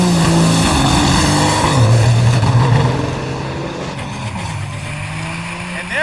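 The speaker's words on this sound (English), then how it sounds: "Cato's truck is banging and popping and not sounding happy" Cummins diesel-powered Dodge drag racing trucks launch side by side down a drag strip, loud and close, their engine roar climbing in pitch before one truck falls back, banging and popping as the sound drops.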